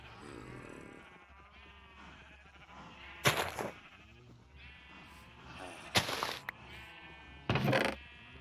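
Several Minecraft sheep bleat in separate calls over a quiet background, with a few short, sharp bursts of noise between them.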